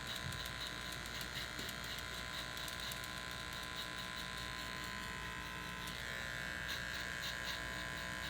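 Old school Fast Feed electric hair clippers run with a constant close buzzing hum and a bright whine, steady and unbroken, during a haircut.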